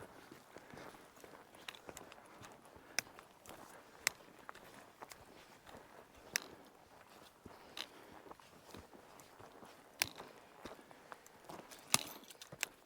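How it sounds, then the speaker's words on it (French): Faint, irregular hoof clops from horses walking slowly, each step a soft distinct knock against a quiet background. "Regarde les chevaux"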